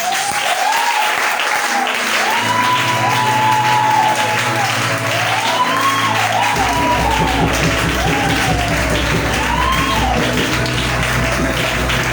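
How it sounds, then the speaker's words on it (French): Church congregation applauding and cheering in acclamation of the Lord, a dense, steady wash of clapping with raised voices and rising shouts throughout, and music entering partway through. "C'est pourquoi je veux t'entendre acclamer le Seigneur"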